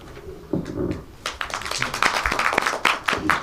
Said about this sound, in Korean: 말씀하실 때마다 박수가 나오는 것 같아요.